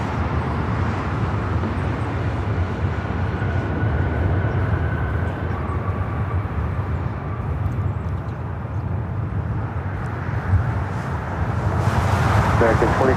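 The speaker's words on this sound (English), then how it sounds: "Flight 712 taking off to London Gatwick on the 787-9 Dreamliner" A Boeing 787-9 Dreamliner, flight 712 to London Gatwick, takes off at LAX with a steady broad jet roar that swells slightly near the end, and faint talk runs underneath.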